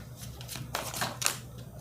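Tarot cards being shuffled by hand, a quick run of papery riffles and flicks at close range, fairly soft and with no talking.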